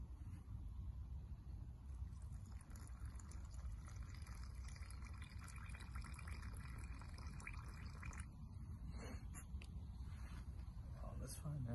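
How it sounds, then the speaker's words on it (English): Hot water pours steadily into a muesli meal pouch outdoors, a continuous watery fill with light dribbles toward the end, close up and partly under voices. "So we're gonna put some hot water on."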